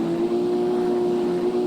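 Steady vehicle engine hum from driving in the video game Free Fire, a constant droning tone held without a break, loud and close, with no talking over it.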